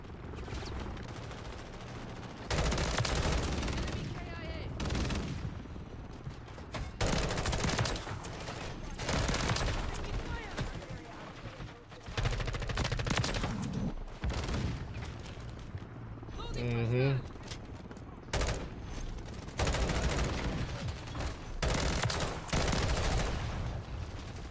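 Full-auto M16 gunfire from the video game Modern Warfare 3 rattles out in repeated loud, rapid bursts, separated by short pauses, with someone talking over parts of it.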